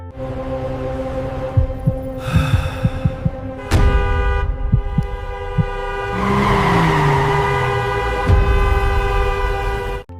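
Vehicle horns honking in stalled Indian traffic: long overlapping toots and a sustained blare from several vehicles nearby, with low thumps and engine rumble beneath.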